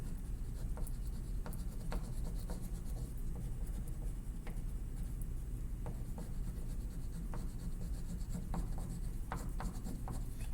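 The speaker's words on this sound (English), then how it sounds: "I'm going to actually draw some chunks and pieces of grass in." A marker scratches across paper in quick, steady strokes, sketching grass chunks for a grade 4 pumpkin drawing; close, dry, rhythmic squeaks and taps repeat continuously with no talking.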